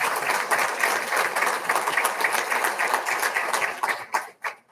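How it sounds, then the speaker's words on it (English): A school board meeting audience applauds in a brisk, dense round of clapping that thins out and fades to a few last claps near the end. "So a big round of applause for everyone who took part in that."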